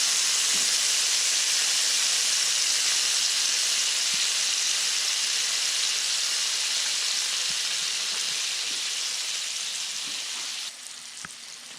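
Fish sizzling in grease in a cast iron skillet, a loud continuous bright hiss that holds steady and eases slightly toward the end, with faint clinks now and then.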